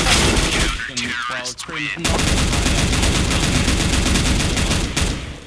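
Loud bursts of rapid automatic gunfire in a competitive Counter-Strike match on the Mirage map, a short volley, a brief gap, then a sustained dense stream of shots that cuts off near the end.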